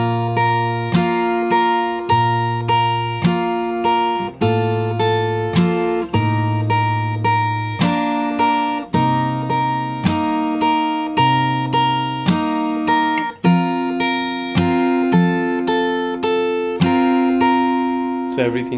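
Fingerstyle acoustic guitar plays the intro of a song, chords plucked together rather than rolled, in a steady pattern of ringing notes with no voices.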